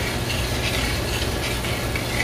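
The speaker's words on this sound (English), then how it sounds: "I always give my rice a little stir." Rice being stirred in a pot gives a close, steady scratchy hiss with faint rhythmic scraping strokes running throughout.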